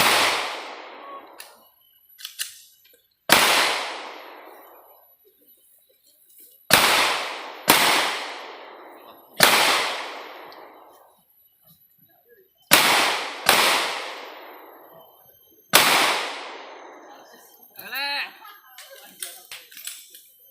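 Duelling pistols fire during a shooting competition, about eight loud, sharp cracks spaced irregularly, each ringing out and decaying, with brief voices near the end.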